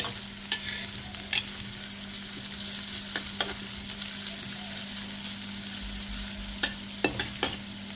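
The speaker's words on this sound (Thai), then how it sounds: "อันนี้เขาก็จะพัด พัดหมอกหวาาให้มันสุกเนาะ" Bamboo shoots stir-fried with pork belly in a pan, giving a steady sizzle broken by several sharp clacks of a utensil scraping and tossing the food, close and moderately loud.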